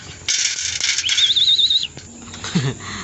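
Racing pigeons land at a loft during training in Alaminos, Laguna, with bursts of close wing flapping and fluttering, a thin whistle-like tone running through the middle and a brief bird call near the end.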